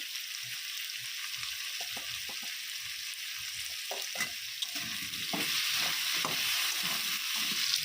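Ginger, garlic and spices sizzle steadily in a pan for a pangas fish curry, a constant frying hiss with intermittent scraping stirs of a spoon, growing slightly louder toward the end, close and without talk.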